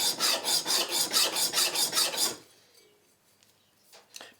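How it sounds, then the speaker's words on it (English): A knife blade rasps back and forth across a coarse, oiled sharpening stone in steady rhythmic strokes for about two seconds, then stops, leaving near silence with a few faint clicks. "get a coarse stone, lash some oil on it, and you're going to have to rub them flats like so"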